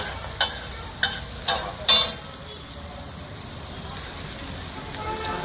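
Onion and capsicum sauté on a large pav bhaji griddle at a street food stall, giving a steady close sizzle, with four sharp spatula knocks against the metal at the start.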